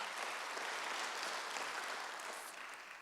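A church congregation at a Sunday worship service breaks into sustained applause, a dense, even roar of many hands clapping together that fades slightly at the end.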